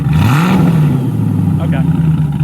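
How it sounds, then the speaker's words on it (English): A 1994 TVR Chimaera with a 4.6 engine revs on a cold start, with a loud, close idle rumble that rises in one quick rev near the start and then settles back. "You rev it a couple times."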